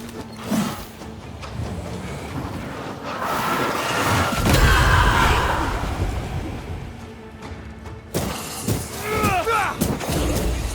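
Gunfire and mechanical clatter in the video game Banishers: Ghosts of New Eden as a corpse enemy shoots, a loud rumbling burst in the middle followed by sharper cracks and rattles, with a voice talking in places.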